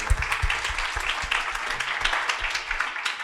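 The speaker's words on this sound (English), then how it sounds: "we want to give a big round of applause to the organizers of this conference." Crowd of conference attendees applauding after a round of thanks to the event organizers, dense steady clapping throughout with no break, moderately loud and close.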